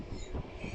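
A Queensland city train rushing past close by, a brief loud roar of wheels and rail noise with a faint high squeal.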